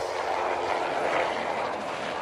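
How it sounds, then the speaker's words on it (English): Steady whirring rotor and engine drone of a helicopter flying in the Trainz train simulator game, continuous and fairly loud with no pauses, alone without talk. "This was no time for a chat with a helicopter."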